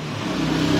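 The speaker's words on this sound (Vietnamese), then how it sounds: "tiếng còi này giống của ô tô các bạn" A Denso horn fitted to a Honda SH scooter gives a loud, close, car-like honk, one sustained steady blast lasting under a second.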